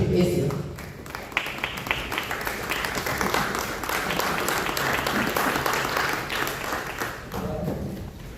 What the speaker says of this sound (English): A round of applause for Dr. Patrick Essien.